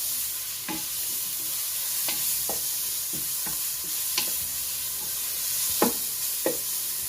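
Grated carrot fries in a pan with a steady sizzle, while a utensil scrapes and stirs it in intermittent sharp strokes and taps. The sound is close and continuous, with no talking.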